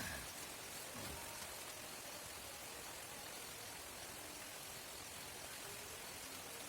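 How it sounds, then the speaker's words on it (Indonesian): Heavy rain pours at a campsite, a steady broadband hiss of drops on surfaces that holds at an even level throughout, with no voices heard. "Hujannya semakin gede."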